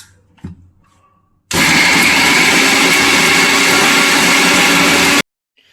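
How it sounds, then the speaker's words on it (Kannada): A mixer grinder grinds spice paste, roaring loudly for about four seconds, starting and stopping abruptly, after a few quiet clicks and handling sounds. "ಇವಾಗ ಮಿಕ್ಸಿಗೆ ಹಾಕೊಳ್ಳೋಣ"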